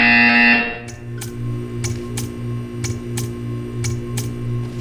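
In the video game Portal 2, a loud electronic buzzer sounds for about a second, then gives way to a series of sharp regular clicks over a low mechanical hum.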